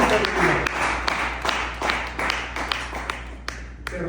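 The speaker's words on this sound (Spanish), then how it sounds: "Dele un fuerte aplauso al Señor." Congregation clapping at a church service, a steady wash of applause with scattered sharper hand claps running throughout, moderately loud and continuous.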